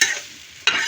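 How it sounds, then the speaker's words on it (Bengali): Noodles frying in a pan at home are stirred, giving a short hissing sizzle that fades and then flares up again with a fresh scrape. "এই যে তোমার জন্য নুডলস রান্না করতেছি।"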